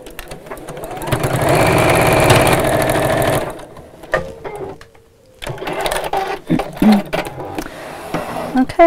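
A sewing machine stitches straight across the end of a zipped pouch with a woodland animal panel, running steadily and loudly for about three seconds, then stopping, followed by quieter handling clicks and fabric rustling.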